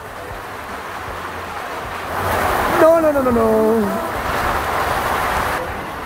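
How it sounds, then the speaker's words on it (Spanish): Heavy rain pours down steadily outdoors in Puentecillas, Durango, a broad hiss that swells louder midway, with a voice speaking over it. "Se vino más fuerte el agua."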